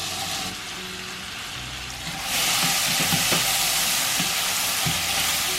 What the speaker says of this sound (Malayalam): ബട്ടർ ഇതുപോലെ മെൽറ്റായി വരുമ്പോഴേക്കും നമ്മൾക്ക് ഈ കട്ട് ചെയ്ത് വെച്ചിരിക്കുന്ന ആപ്പിൾ ഇതിലേക്ക് ഇട്ട് കൊടുക്കാം